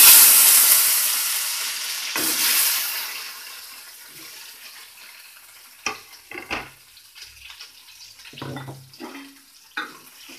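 Tomato pieces frying in oil on low heat for a rice and idli chutney, a loud opening sizzle settling into a softer hiss, broken later by a few scraping stirs and clinks.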